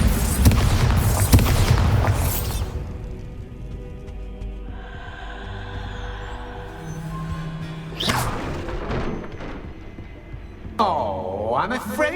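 A Bombarda explosion spell cast in the video game Hogwarts Legacy: a loud, booming blast with rumbling low end at the start, followed by a sustained eerie hum and later sharp crashes.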